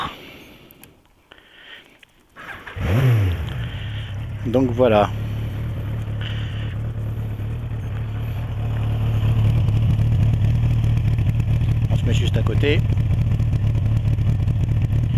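Someone speaks briefly in French, then a motorcycle engine cranks and fires up, revving a few times before settling into a steady, close idle rumble, recorded from a microphone inside a helmet.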